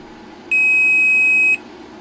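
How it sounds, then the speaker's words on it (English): A multimeter continuity tester sounds a single steady high beep lasting about one second while checking a connection from pin 6 of a MIDI interface IC to pin A3 on a black pill board in a synth build. The beep stands alone over quiet background hiss. "the beep confirms that we do have continuity from that pin to this pin"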